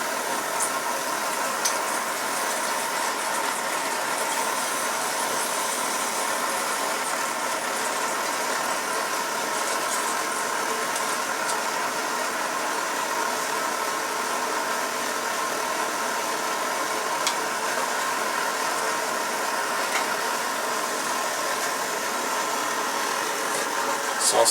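A Coleman Feather 400 liquid-fuel camping stove burning on high gives a steady, loud, continuous roaring hiss that stays even throughout with no pauses, heard close up and alone.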